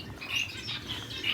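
African finches kept for breeding, chirping in short high tweets at irregular moments over a low steady background hum, with no talk.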